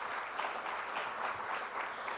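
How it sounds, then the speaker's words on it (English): An audience at an AI business conclave applauds three chess champions on stage, a broad, even roar of clapping sustained throughout. "Huge round of applause."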